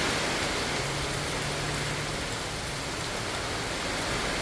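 Steady rain falling in Ocala, Florida, an even dense hiss of drops heard from indoors by a window, continuous and moderately quiet, with no voices.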